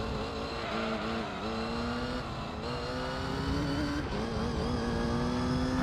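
Race car engine in the Gran Turismo 3 video game, a continuous revving whine that climbs through gear changes, loud and steady with no talk over it.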